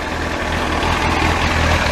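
A Yamaha YZF R1 4XV motorcycle engine idling steadily, a close, loud, even low rumble with a constant throb and no revving.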